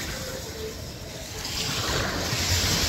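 Surf washing onto a warm beach on St Thomas in the US Virgin Islands, a soft broadband wash that swells louder midway, with steady wind noise on the microphone.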